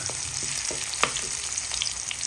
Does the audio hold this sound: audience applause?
no